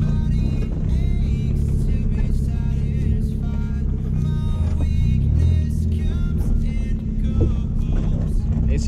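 A Fiat Uno with no exhaust drives an off-road trail, its engine droning loud and rough the whole time with revs rising and falling, a voice talking over it.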